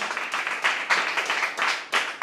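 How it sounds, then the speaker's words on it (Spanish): A church congregation applauds in uneven waves of clapping, moderately loud and somewhat distant, rising and falling over a couple of seconds. "Dele un aplauso al Señor Jesús."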